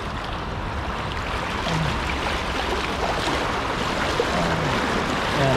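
Strongly flowing river water rushes in a steady, loud, unbroken roar at a slippery, mossy crossing point, with no voices over it.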